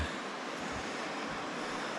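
A fast-flowing, swollen creek rushes past in a steady, loud, close-up roar of churning water with no pauses.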